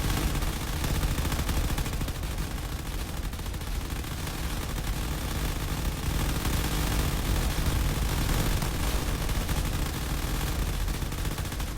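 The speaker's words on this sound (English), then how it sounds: "We're just gonna rain gunfire onto the base." Turrets and ships in a space battle video game pour out continuous gunfire, a dense unbroken roar of rapid shots and explosions that stays loud and steady throughout with no talking.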